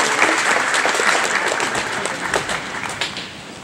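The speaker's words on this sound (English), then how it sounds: "Let's give those folks a round of applause." Audience applause at a live event, a full round of dense clapping that starts strong and gradually thins and softens toward the end, with no speech over it.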